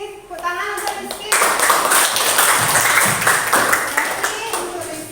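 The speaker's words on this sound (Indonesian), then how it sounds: "Tepuk tangan untuk Rizky." Students in a high school classroom clap for a classmate, starting with a few claps under speech and swelling into steady, close, energetic clapping that continues to the end, with children's voices mixed in.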